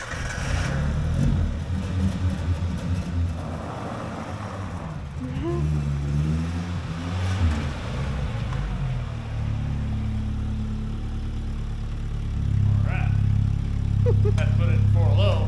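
Old Suzuki Samurai that sat abandoned in a field for 20 years, its engine running and revving in rough bursts, loud and near, with people talking over it.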